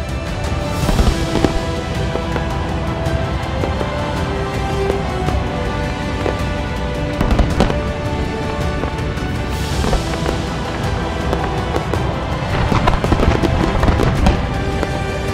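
A large fireworks display over Dubai, shown alongside two aircraft and 2000 drones, with a dense continuous crackle and popping of bursts, punctuated by louder booms and rising whistles, loud and sustained.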